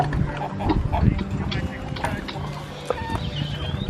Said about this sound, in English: Okay, this is a chicken.